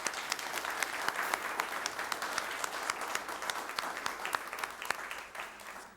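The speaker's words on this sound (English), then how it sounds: "we'd like to give them a round of applause" A room at a board meeting applauding students receiving certificates, a steady moderately distant patter of many hands that tapers off near the end.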